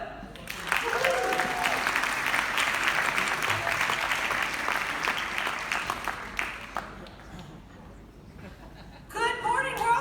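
Warm applause from a large congress audience welcoming a past president to the stage, loud and sustained with some cheering, then dying away as a voice begins speaking over it near the end.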